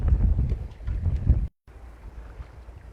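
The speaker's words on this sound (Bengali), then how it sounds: "দেখুন নৌকায় জল বাড়ছে, খুব জোরে জোরে এসে ধাক্কা দিচ্ছে জল।" Strong waves slap against a fishing boat in the Sundarbans in loud, choppy bursts of rushing water and wind for about a second and a half, then the sound drops out and returns faintly.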